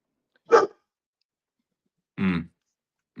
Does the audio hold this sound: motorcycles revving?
no